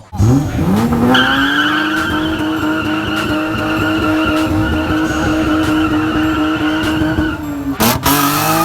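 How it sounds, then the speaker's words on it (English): A car drifting at a San Jose street car meet, its tires screeching in one long loud sustained squeal over a revving engine, close by, before cutting off sharply near the end. "He was just trying to drift."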